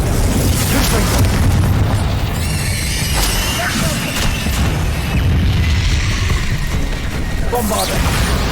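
A fire-blast curse exploding in Hogwarts Legacy on PS5, a loud rumbling boom within a thick wall of battle sounds, crashes and bursts, with a voiced incantation mixed in.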